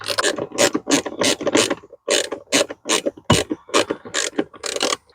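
A ratcheting driver clicks rapidly as it drives two 7mm screws into the cabin air filter cover of a 2015–2020 Ford F-150, in close, loud bursts of ratchet clicks with brief pauses between them.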